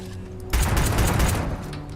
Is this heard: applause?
no